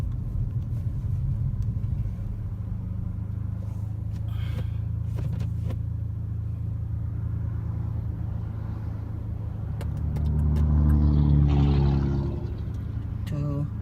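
Car fitted with MBRP and Mountune exhaust driving at speed, a steady loud engine and road rumble throughout, swelling louder near the end as it accelerates.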